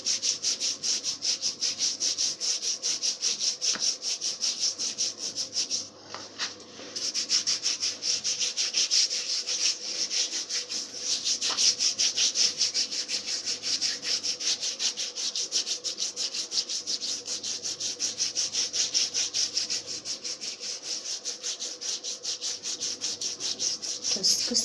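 Skin is scrubbed with a body scrub in a steady, close, raspy rubbing that keeps going for about twenty-five seconds with only a brief dip, and no one speaks.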